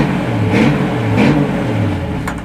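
An old Dodge pickup truck engine revs up twice in quick succession, a throaty rising roar close by, then settles back to a rumble.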